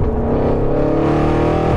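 Audi RS6 tuned to Stage 2 with about 700 bhp and an Armytrix exhaust, revving loud and close. A steady droning engine note runs the whole time and climbs slightly near the end.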